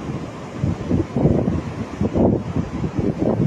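Strong wind buffets the microphone in continuous low rumbling gusts while net fishing, rising and falling throughout with no one speaking.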